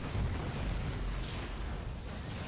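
Siege tanks in StarCraft II pound away in a steady, rumbling barrage, heavy booms and explosions blending into a continuous loud roar with no pauses.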